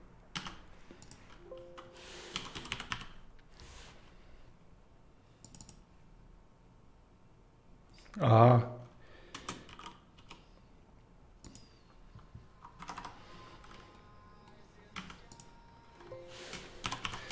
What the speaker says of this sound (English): Yeah, I keep clicking space, yeah.